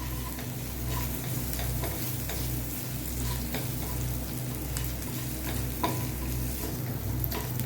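Onions sauté in a pan for a prawn tawa fry with a continuous close sizzle, occasional scraping and stirring clicks, and a low steady hum underneath.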